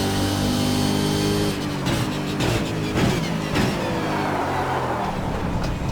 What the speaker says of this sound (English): You hear the gear change difference?